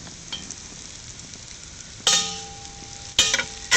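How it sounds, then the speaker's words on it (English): Food frying in a Dutch oven for baked beans, a faint low sizzle with two bursts of louder scraping and clanking as the pot is stirred or moved. "I'm just going to fry this up a little bit longer."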